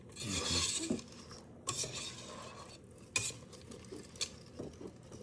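A spatula scrapes around the sides of a pot of thick, cheesy polenta in short, close, gritty strokes separated by brief pauses, quiet overall and with no voices.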